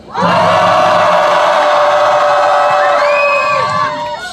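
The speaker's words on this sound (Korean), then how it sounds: "함성 한 번만 같이 질러볼까요?" A large crowd at an outdoor peace rally against war shouts a loud, sustained cheer together, one long rising roar of many voices that swells quickly and fades near the end.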